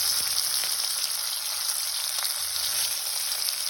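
Vegetables and spices frying steadily in a hot pan, with green chilies and ginger-garlic paste among them, giving a continuous close, loud sizzle and crackle with faint stirring, no voices.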